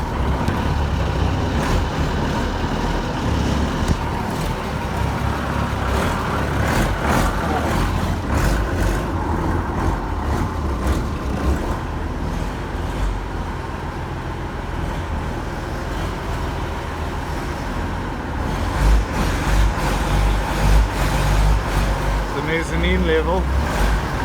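A Unimog F Series truck drives with a person clinging to its front bumper: a continuous close, heavy low engine rumble and road noise, with voices talking over it.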